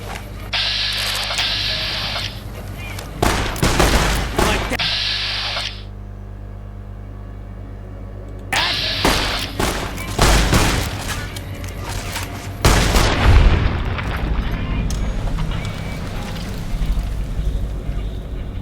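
Gunfire and explosions from the video game Fallout: New Vegas come in loud, dense bursts of rapid shots and booms, separated by quieter stretches of low hum.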